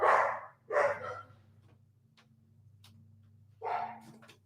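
Dogs bark indoors in three sharp, close outbursts, two in quick succession and one after a pause, over a low steady hum with faint ticks between.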